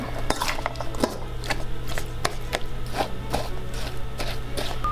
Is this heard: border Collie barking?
no